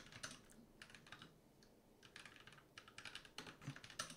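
Computer keyboard typing while a developer codes an interactive whiteboard app: quiet, close bursts of rapid keystrokes separated by short pauses, with no talking.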